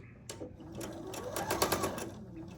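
Sewing machine stitching quilt fabric pieces with a quarter-inch seam, a close rapid mechanical whir that speeds up mid-clip and runs steadily, with no talk.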